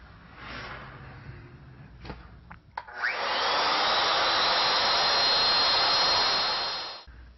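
A lathe turns a roughed wooden candlestick part down toward about 4.5 inches across, with a few knocks and brief whirs before a loud, steady high-pitched machining roar that runs for about four seconds and then cuts off.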